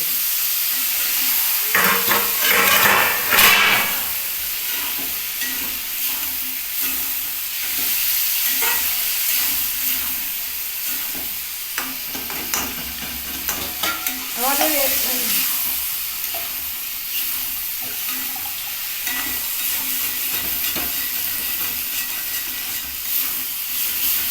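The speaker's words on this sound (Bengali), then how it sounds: "বেশ লালচে লালচে মশলাটা লেগে যাচ্ছে তার জন্য একটু জল দিয়ে দিচ্ছি" Reddish chili-powder spice paste sizzles and hisses in a pan as water is added, with steady stirring scrapes running throughout for an egg and vegetable kosha curry.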